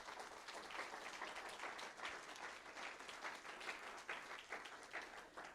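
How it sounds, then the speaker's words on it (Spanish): A church congregation claps for the Lord during an evangelical sermon, sustained dense applause with rhythmic peaks, steady and fairly faint, with no talk over it. "Dale un fuerte aplauso al Señor"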